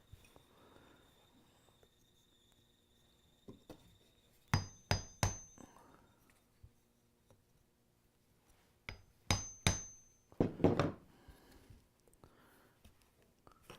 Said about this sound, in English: And center punch it.